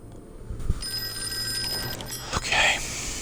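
A ringing telephone in the Call of Cthulhu video game, a bright repeated bell tone heard close and fairly loud over a low ambient game backdrop, with no talking.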